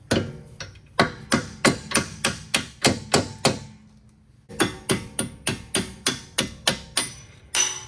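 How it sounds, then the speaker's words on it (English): Hammer tapping on a threaded-back-on nut to drive a suspension bolt free during a Jeep Compass 2-inch lift kit install: a steady run of sharp metallic strikes, about two per second, close and loud, with a brief pause midway. "take and put the nut back on there and just give them a little tap"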